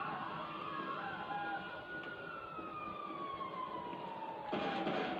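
An ambulance siren from the GTA 5 video game wails steadily in a long, sweeping tone that slowly glides downward, loud and continuous with no voices over it.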